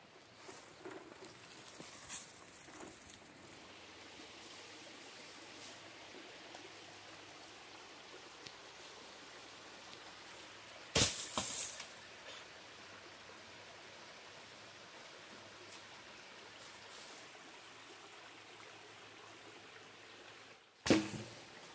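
A creek with bamboo placed in the water flows with a soft, steady wash and patter that continues evenly throughout, faint and distant, broken by two brief louder knocks or splashes near the middle and at the end.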